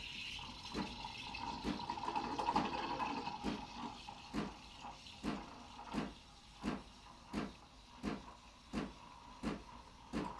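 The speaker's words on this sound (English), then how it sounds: "Purge a bit of water out" Water purging from the steam wand of a Gaggia Brera espresso machine, a hissing, gurgling spray that settles into a steady run of evenly spaced pulsing bursts, close and fairly loud.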